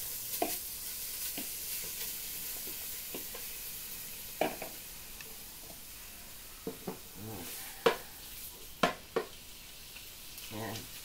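Beef browns in a pot for stew with a steady, soft sizzle, broken by a few sharp knocks and scrapes of stirring close by.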